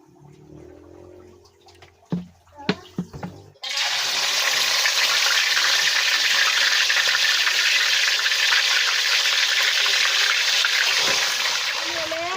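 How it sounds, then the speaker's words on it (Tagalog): Food frying in a pan, a loud steady hiss and crackle of hot oil that starts abruptly and sustains to the end, preceded by a few clatters and brief talk. "Matapos ko pong ibabad ng ilang minuto at ito po ay prituhin ko na."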